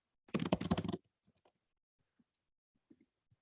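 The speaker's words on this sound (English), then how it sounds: "straight away start typing the name" A quick burst of rapid typing on a computer keyboard, then a few scattered single key clicks spaced out in a quiet room.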